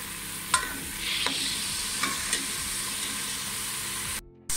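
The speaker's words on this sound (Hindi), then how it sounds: "स्पाइसेस डालने के बाद अब हम मसाले को अच्छी तरीके से 2 से 3 मिनट के लिए भून लेंगे।" Spice masala with salt frying in a pan for moong dal, a steady close hiss of sizzling oil with a few light scrapes of stirring, ending in a brief cut to near silence, with no talk.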